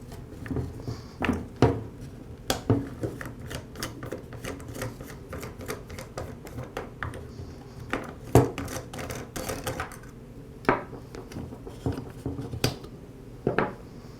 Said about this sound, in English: I'll begin by removing the bump head knob and the spool